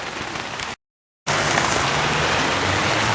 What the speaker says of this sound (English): In the rain, everything's soaked.